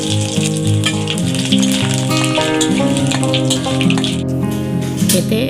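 Whole spices, cinnamon pieces, cardamom, cloves, torn bay leaf and cumin seeds, sizzling loudly in hot oil with dense crackling pops close up, over a steady tonal hum, no talking.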